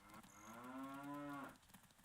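A single drawn-out cow moo from Ocarina of Time, steady and tonal for about a second before dropping off, fairly faint with no talk over it.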